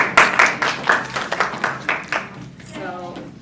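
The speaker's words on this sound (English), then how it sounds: "Go ahead and clap your hands for them." An audience claps hands at a talk by an engineer, a short run of distinct claps roughly evenly spaced that thins out, followed by a brief voice.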